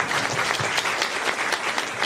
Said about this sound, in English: Just a round of applause for everyone here.